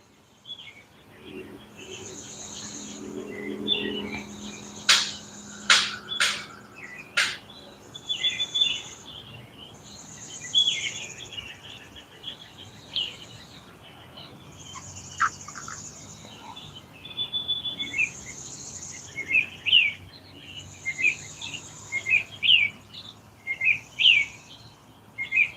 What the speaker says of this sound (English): Just enjoy some Tweety birds.